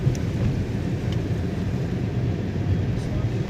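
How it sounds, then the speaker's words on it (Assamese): Steady light rain falls outdoors near a waterfall gate on a mountain road in Arunachal Pradesh, a continuous broadband hiss with a low rumble underneath and no clear pauses. "এতিয়াও চিপ বৰষুণ দিয়ে আছে"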